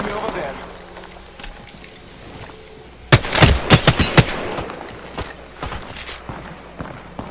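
Rapid automatic gunfire bursts in Apex Legends, loud and close in a dense volley around the middle, then scattered shots trailing off, with a caster commentating over a competitive scrim match.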